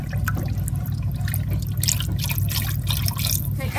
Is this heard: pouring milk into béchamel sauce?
yes